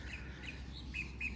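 Faint high chirps from birds at a wetland sanctuary boardwalk in Wellington, Florida, repeating at a steady pace over a low background hum.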